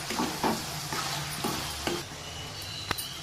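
Okra and tomato curry sizzles in a pan while a utensil stirs it, giving repeated scraping strokes over a steady close frying hiss.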